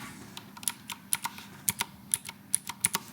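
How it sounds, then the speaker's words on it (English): Crisp, close keystrokes on an IQUNIX mechanical keyboard tap out an irregular rhythm, each press a sharp clack as the key bottoms out and springs back. "you just hear how keycap hits to the bottom and come back to the top."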